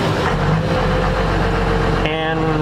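High-horsepower 12V Cummins diesel truck engine running loud and close, a dense rumbling drone that shifts to a steadier idle tone partway through, filling the whole clip.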